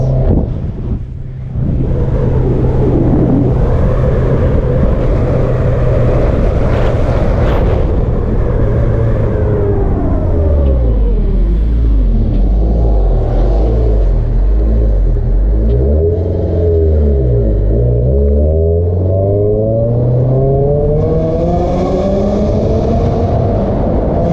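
Engine of a Honda Civic race car with a D-series motor revving loudly and continuously, pitch sweeping up and down through repeated rises and falls, close and dominant with wind buffeting.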